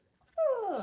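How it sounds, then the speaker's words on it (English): A dog lets out a single brief whimper, a high drawn-out whine that falls in pitch, close and fairly clear after a moment of near silence. "Oh, is that your dog?"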